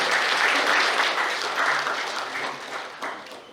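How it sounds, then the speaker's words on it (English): A crowd in a hall gives a round of applause at an entrepreneurship keynote, steady and fairly loud clapping that slowly thins over a few seconds. "let's give her a round of applause, please."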